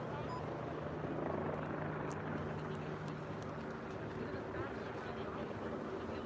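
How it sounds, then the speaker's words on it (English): Helicopter flying high overhead during a New York City street protest march, a faint, steady rotor drone blended into a dense outdoor crowd and traffic murmur that persists throughout. "And we got a helicopter above us too"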